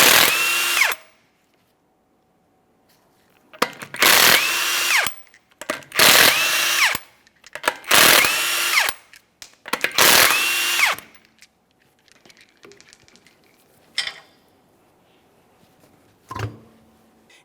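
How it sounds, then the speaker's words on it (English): A power tool spins off the 21mm lug nuts from a Mazda 3 wheel in five loud, close bursts of about a second each, separated by short pauses, followed by faint clinks and handling noises. "we're going to remove all 5 of our 21mm lug nuts and that wheel"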